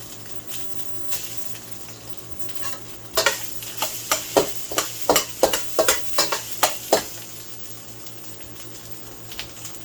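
Cooked rice tossed and stir-fried in a hot wok for spicy teriyaki chicken fried rice, a steady sizzle broken by a run of sharp, rhythmic spatula scrapes and clacks, close and fairly loud, with no talking.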